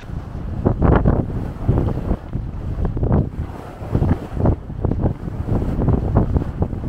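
Wind gusting on an Arctic sailing boat near Svalbard at about 12 knots, loud rumbling buffeting against the microphone in irregular surges, with waves and hull motion beneath, no talk.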